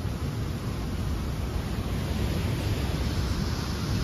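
Water rushing down a mountain waterfall near Manali, a loud, constant broadband roar that stays even and unbroken from start to finish, with no voices over it.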